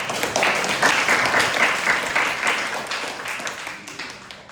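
Audience clapping at the end of a student project presentation on a conventionally controlled Cartesian machine, a burst of mixed hand claps that swells quickly, holds for a few seconds, then tapers off.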